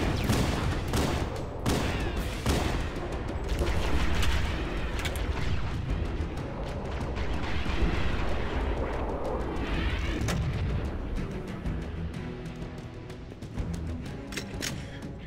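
Heavy gunfire and explosive booms from a firefight in Halo: Combat Evolved on Heroic difficulty, a dense, continuous barrage of shots and blasts filling the whole stretch at close range with no pauses.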